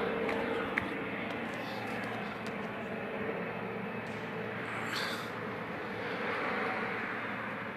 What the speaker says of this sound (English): I don't know if that's a helicopter or what.